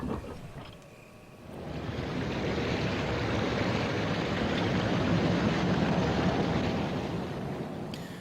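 Water rushes in to refill a pool in Resident Evil HD, a dense roaring wash that swells up after a brief quiet start and holds steady and loud.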